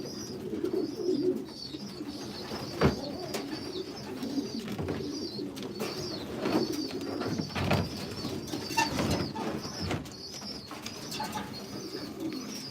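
Racing pigeons in a breeder's loft coo continuously at close range, with soft wing flutters and shuffling beneath the steady low murmuring.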